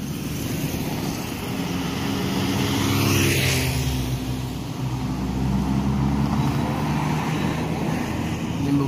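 A Sempati Star Scania K360 bus approaches at a bus terminal, a steady, loud engine rumble with broad road noise that swells slightly midway and then holds.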